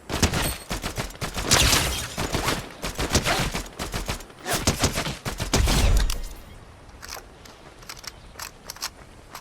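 Gunfire in the Snake Eyes video game, dense bursts of rapid shots and crackling fire for about six seconds, then scattered single shots, moderately loud, no voices.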